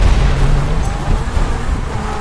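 Explosions and shelling in the game GTA5, a dense, loud rumbling barrage of booms that fills the whole moment without a break.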